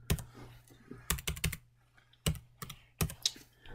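Keys on a computer keyboard are tapped in short, irregular bursts of crisp clicks, close and fairly quiet, with pauses between groups.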